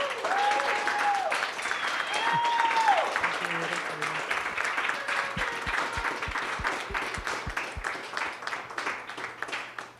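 An audience at a community tech meetup applauds in a steady, moderately loud patter of many hands, with a few voices and whistle-like tones mixed in over the clapping.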